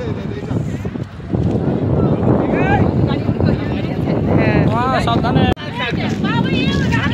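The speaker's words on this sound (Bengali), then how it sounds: "আর এখানে এত হাওয়া না যে কোনো কিছু মানে শোনা যাচ্ছে না" Strong mountain wind buffets the microphone near the Nathula border at Changu Lake, a loud steady roar with gusts, under continuous talking by several people; a sharp dropout and bump near the end.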